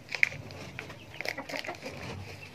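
Backyard chickens and ducks cluck softly at close range, with short intermittent calls and light rustling and no talk.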